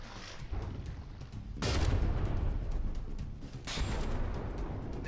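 Turret artillery fire in the naval combat game From the Depths: two sharp, heavy blasts a couple of seconds apart, each followed by a dense rumbling roar, against a continuous low battle noise.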